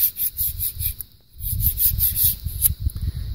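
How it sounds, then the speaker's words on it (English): A steel single-bevel broadhead being stroked across a DMT diamond sharpening stone, giving a steady rhythmic rasping scrape with a short gap partway through, close and clear with no talk. "you could sharpen these broadheads"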